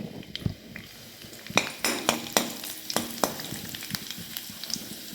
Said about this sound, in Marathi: आपण त्याच्यामध्ये बारीक चिरलेली सर्वात आधी लसूण टाकायचं आहे लसूणला छान असं लालसर भाजून घ्यायचं आहे